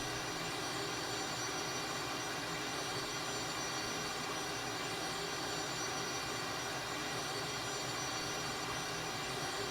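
Steady, loud jet engine drone of a T-37 Tweet in flight in Flight Simulator, a constant broadband roar with no voices.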